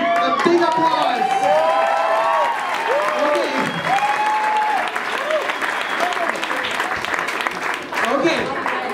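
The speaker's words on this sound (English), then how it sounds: "Give them a big applause." A crowd at a swing dance competition's quarter finals applauds and cheers loudly throughout, with whoops over the clapping and a voice speaking over the noise.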